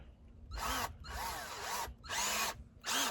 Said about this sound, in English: Now we got to drill a hole here and a hole here, and on the base itself for the stand